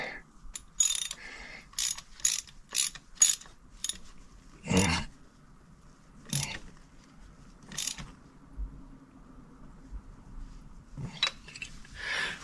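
Ratchet clicking in short bursts while an NGK Iridium spark plug is threaded in by hand on a Hyundai Elantra engine, with a socket extension; quick loud ratcheting clicks come in groups separated by pauses and softer mechanical handling.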